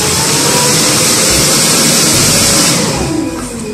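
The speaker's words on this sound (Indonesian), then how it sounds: "forklift buat ngangkat barang berat." A forklift engine runs loud and close, a steady rumbling drone that holds throughout and fades sharply at the very end, with no talk.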